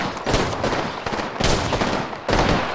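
Heavy automatic gunfire from the video game Apex Legends, loud and close, arriving in three dense bursts separated by short gaps, with no talking.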